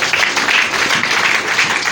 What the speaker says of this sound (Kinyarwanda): Tuyikomere amashyi menshi cyane.